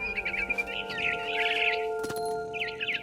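Frightened barn swallow chirping in What Remains of Edith Finch, a quick series of high twittering calls in bursts over a steady tonal game ambience, fairly close and clear.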